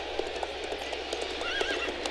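Horse galloping with clip-clop hoofbeats and a neigh during a regional horse show in the Sims 3 Pets video game, steady game sounds with a whinny near the end, no talk.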